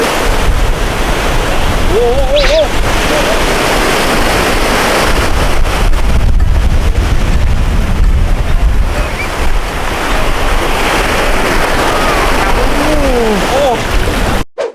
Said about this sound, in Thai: ตอนนี้ลมแรงมากนะครับ คลื่นรู้สึกว่าคลื่นแรงมาก แรงมากเลยครับ